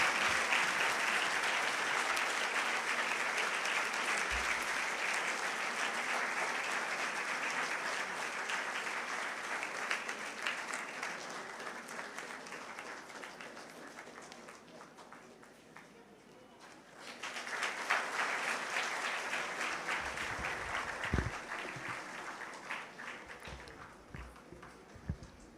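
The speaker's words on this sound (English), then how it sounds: "I request everyone to welcome our guests with a big round of applause" A large crowd at a National Youth Day celebration applauds guests arriving onto the dais, sustained loud clapping that thins briefly midway, then swells again before gradually winding down with a few scattered claps.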